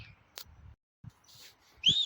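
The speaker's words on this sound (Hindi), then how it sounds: "ये ऊपर मेरे पड़ोसी सीटी बजा रहे हैं" Neighbours upstairs whistle near a home on a windy, overcast day. After faint scattered knocks, one short rising whistle rings out clearly at the very end.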